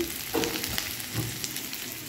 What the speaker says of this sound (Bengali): আমি পেঁয়াজটাকে লাল লাল করে ভাজার জন্য নেড়ে দিচ্ছি